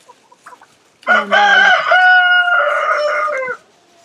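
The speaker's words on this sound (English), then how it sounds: "you can tell right now we have a few roosters." Farm roosters crow loudly and up close in one long, layered call lasting a few seconds, with soft chicken clucking before and after it.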